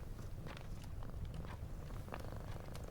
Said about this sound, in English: your little friend is purring louder than ever